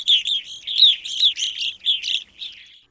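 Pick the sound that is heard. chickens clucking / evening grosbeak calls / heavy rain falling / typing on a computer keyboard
evening grosbeak calls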